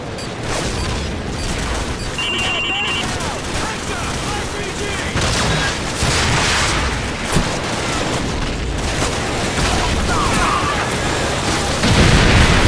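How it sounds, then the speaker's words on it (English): Javelin missiles striking tanks at the far end of a bridge in Call of Duty 4, heard as dense, continuous gunfire and booming explosions with a heavier blast near the end, under battle shouting. "Jackson, pick up the javelin so you can take out those tanks. Hit those vehicles at the far end of the bridge!"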